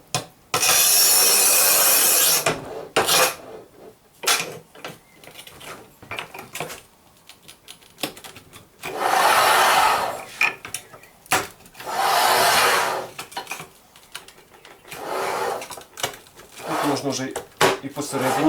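A Haisser 1200 mm manual tile cutter scoring and snapping tile, giving loud rasping scrape strokes in bursts and sharp clacks, close up with someone talking between the cuts.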